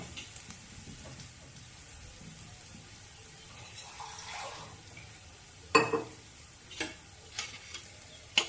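Chopped ginger and green chilli sizzle softly in a pan for a Bengali potato kachori filling, with a faint continuous frying hiss and a few sharp spoon clinks and stirring scrapes.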